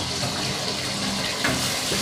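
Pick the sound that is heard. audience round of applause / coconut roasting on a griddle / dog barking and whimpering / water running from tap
water running from tap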